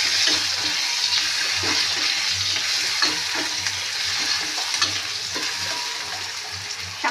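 Chopped garlic, ginger and tomato fry in a pan over browned onion, giving a steady, close bubbling sizzle with soft periodic stirring scrapes.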